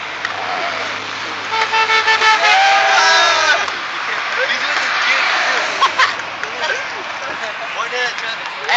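A truck horn at a construction site honks in a series of loud, close toots of varying length, with traffic noise and people's voices around them.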